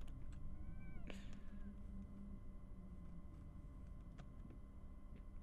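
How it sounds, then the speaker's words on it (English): A single short cat meow in the video game Layers of Fear rises briefly over a low, steady ambient rumble, with faint clicks scattered after it. "Did you hear a cat just now?"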